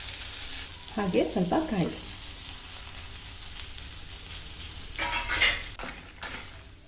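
Spices such as poppy seeds and turmeric roasting on low flame in a pan for egg-chicken sambar, a soft continuous sizzle broken by short scraping stirs, with someone speaking briefly over it.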